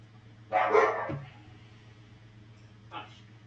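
Dogs give one sharp, fairly close bark followed by a fainter second bark a couple of seconds later, over a low steady hum, with speech nearby.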